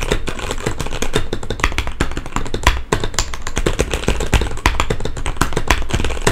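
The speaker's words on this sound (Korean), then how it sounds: "진짜 이거 진짜 비싼 키보드에서 나올 수 있는 소리인데" Rapid, continuous clacking of a mechanical keyboard being typed on, close and crisp, with deep thocky keystrokes and no voices.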